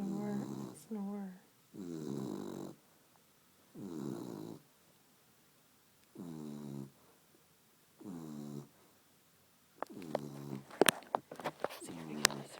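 A beagle snores in repeated rhythmic breaths, about five slow snores spaced a second or two apart, close and fairly loud, followed by a few sharp rustles and clicks near the end.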